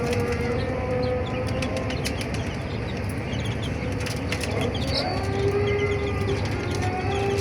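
Chickens and quail on a home rooftop garden cluck and call over a dense, busy bird chorus with faint wing flutters, steady and close throughout, with no talking.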